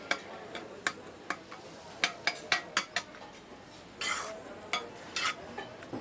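Peas go into a pan of frying cauliflower and Indian vegetables for fast food in Mumbai, heard as crisp spoon-on-pan clacks in an uneven rhythm over a soft sizzle, close and fairly quiet.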